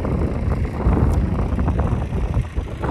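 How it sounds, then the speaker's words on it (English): Steady low rumbling wind buffets the microphone outdoors at a sweet corn planting field, a continuous gusty roar with no voices. "Sorry about the wind."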